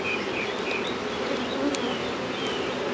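Honey bees buzz steadily at an unfed hive as they bring in fresh fall nectar, a dense, continuous close-up hum with no talk.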